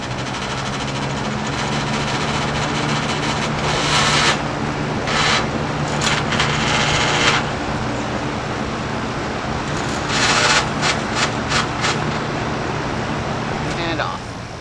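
A 1984 Galaxy 3713 box fan runs on high with a steady broadband whoosh and low hum, broken by occasional rattles from a loose grill, recorded close by.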